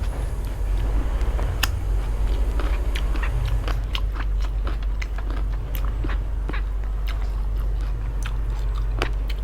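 Someone bites and chews crunchy food close to the mic while eating spicy Thai-Lao papaya salad with cha-om greens. The sound is a dense run of sharp, irregular crackling crunches over a steady low background hum.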